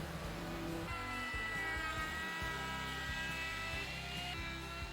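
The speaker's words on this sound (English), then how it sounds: "I then sanded everything smooth before rounding the edges and then sanded some more." A power sander works over a wooden cutting board, giving a steady electric whine and hum with a rhythmic pulsing as the tool moves across the wood, close and continuous throughout.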